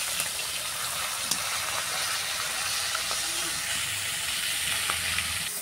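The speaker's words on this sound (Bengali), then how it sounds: "মাছটা আমার ভাজা হচ্ছে, একটু লাল লাল করে ভাজা হলে তারপরে তুলব।" Fish frying in hot oil, browning in the pan: a steady close sizzle and hiss continuing throughout, with a few small crackles and pops and a faint stir near the end.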